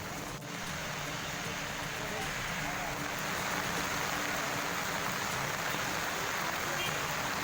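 Heavy monsoon rain pours down in Valparai, Coimbatore, a dense, loud, continuous hiss of rain on surfaces that stays steady and slightly builds across the stretch.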